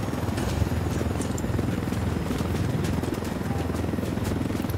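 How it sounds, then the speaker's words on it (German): Helicopter in the video game Ghost Recon Wildlands, a loud, close, steady rotor chop and engine drone that goes on without a break and without talk. "Ich hab ein Heli."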